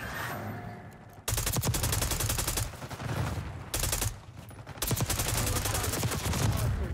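AK-47 fire in Call of Duty Black Ops 6 multiplayer comes as loud, rapid automatic bursts, several sustained volleys broken by short pauses, close and punchy.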